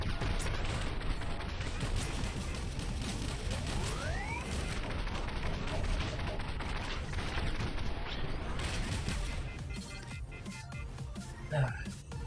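Rapid gunfire from Space Pirate Trainer, a VR shooting game on HTC Vive, crackles in dense repeated bursts throughout, heard close under someone talking.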